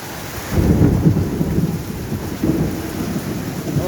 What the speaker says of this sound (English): a thunderstorm, I think.